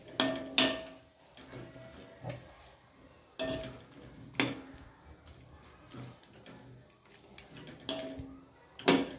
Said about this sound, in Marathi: आता आपण खोबरं भाजून घेऊ, याच्यामध्ये तळूनच घ्यायचं